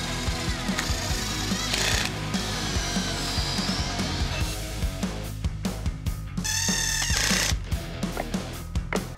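A drill bores pocket holes through garden bed boards held in a pocket hole jig, loud close whining bursts with rattling and knocking between them, the pitch climbing in two spells as the bit cuts into the wood.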